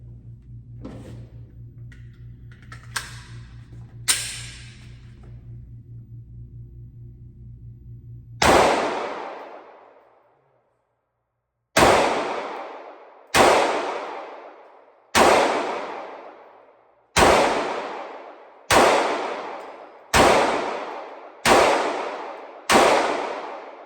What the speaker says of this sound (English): So try that one and shoot for the head area, 15 rounds for that.